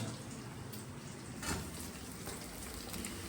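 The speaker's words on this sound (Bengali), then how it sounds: "তেলের মধ্যে দিচ্ছি পেঁয়াজ" Chopped onion going into hot oil in a home kitchen pan after garlic and green chillies, giving a steady, even sizzling hiss that carries on without a break.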